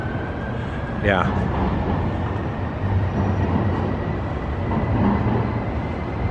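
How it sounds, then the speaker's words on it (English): A tram rumbles along a downtown Portland street, a steady low rolling noise with a brief squeal, heard over traffic as a person talks nearby. "It's got a tram coming up."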